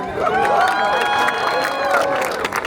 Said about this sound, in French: il y a Haricot, on l'applaudit